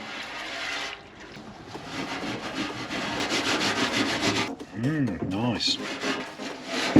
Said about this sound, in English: It's going to need a good scrubbing and scraping as well.